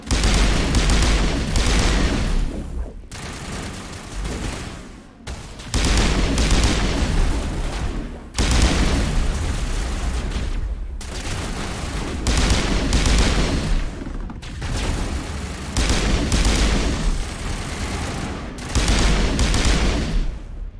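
Rapid bursts of gunfire from the video game Mass Effect, fired at Geth enemies, loud and dense, with repeated volleys broken by short pauses.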